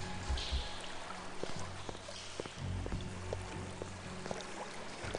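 Water drains in Vampire the Masquerade: Redemption, a low steady rushing and gurgling flow that runs continuously at moderate volume, joined by occasional soft knocks and tones.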